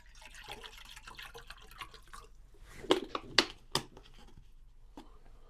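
Water pours and splashes into a camping pot with a budget camping stove nearby, a few louder splashy bursts in the middle over a faint steady background, fairly close and without talk.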